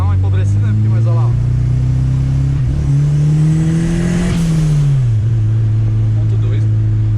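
A Chevrolet Chevette engine, recently repaired, revs up under acceleration and then settles back down, loud and close, with a steady droning tone that rises and falls as people talk over it.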